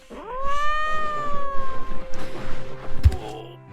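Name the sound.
cat meowing when petted, from video game My Time At Portia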